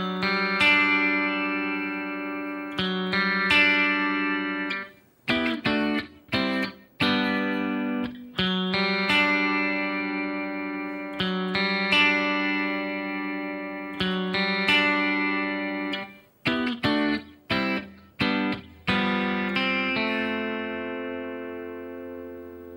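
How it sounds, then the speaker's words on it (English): An overdubbed electric guitar plays the chorus part of a song through chorus and echo effects, ringing sustained chords and notes in a repeating phrase with brief picked breaks, alone and moderately loud. "there's a second guitar during the chorus that's an overdub guitar"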